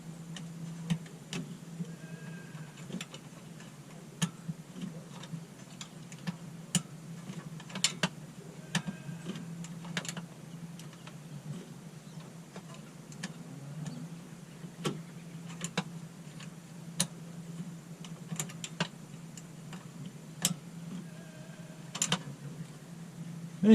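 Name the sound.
wrench loosening bolts on a Kawasaki Teryx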